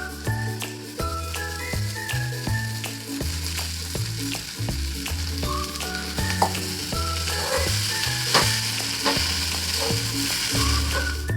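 Poha tossed into roasted masala in a pan, giving a steady close sizzle broken by repeated scraping and clinking strokes of a spoon as it is stirred without pause.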